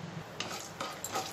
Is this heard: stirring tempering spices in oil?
yes